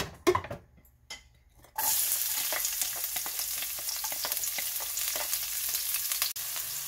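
Sliced onions land in a little hot oil in a pot, and after a few quiet clinks a loud, continuous sizzle bursts up and holds steady while cooking a chicken stir-fry.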